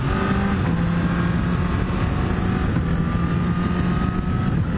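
Honda CBR1000RR SP 2017 sportbike under way, a dense, steady engine roar mixed with wind rush, loud and unbroken for the whole stretch.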